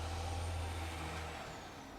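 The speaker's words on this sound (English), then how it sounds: "that was actually the garbage truck" A garbage truck rumbles past outside at a distance, a steady low engine drone with an air-brake hiss, slowly fading over two seconds.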